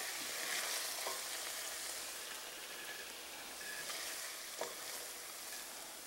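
Lamb chops with onion and chives frying in a pan, a steady close sizzle with a few soft stirring scrapes and clacks of a utensil.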